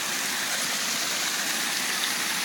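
A waterfall pours continuously into a pool, a loud, steady broadband rush of falling water with no breaks.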